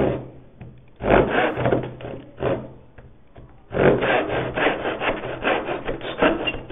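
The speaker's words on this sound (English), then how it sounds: "Keep it very light because the teeth of the saw do want to grab hold of it." Hand saw cutting a wooden tenon, close rasping strokes in uneven bursts, light at first then stronger and more regular, with no talking.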